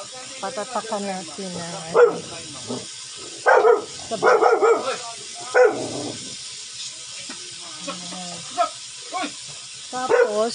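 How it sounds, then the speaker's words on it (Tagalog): A dog barks in several short bursts, some sharp and loud, others fainter, while a person talks and cooking sounds continue nearby. "may tao kasi kaya yan ang aso ko nag-iingay pag may asong dumadating."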